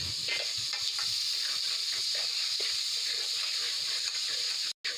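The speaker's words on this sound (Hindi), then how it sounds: "इसको दही को हम फेंटेंगे ताकि ये सही हल हो जाए" Curd is whisked in a bowl while onions fry for aloo kurma, a quick soft stirring rhythm layered over a constant sizzling hiss from the pan, with no speech and a brief cut near the end.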